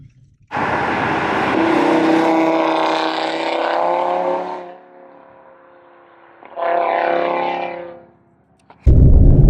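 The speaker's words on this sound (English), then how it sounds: "give you an idea what the car sounds like" A Stage 2+ tuned Audi RS3 engine roars loudly at steady revs, drops back, then surges again in a second burst of exhaust noise before a sudden loud thump.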